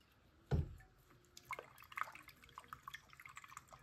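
Water from a 3D printed hydroponic tower planted with strawberries, heard as one loud splash and then a run of small, close drips and trickles.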